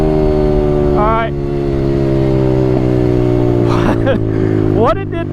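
An Apollo 125RFZ dirt bike with a carburetor problem runs rough at a steady, close, loud drone, with a few quick throttle blips rising above the idle.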